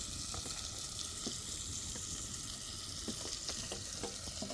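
Paneer frying in a pan outdoors, a constant soft hiss of sizzling oil with occasional light taps from stirring, heard at a moderate distance.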